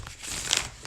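A thick Illuminati Tarot card deck being shuffled, giving a short close crinkling and rustling of cards, quiet and with no talking.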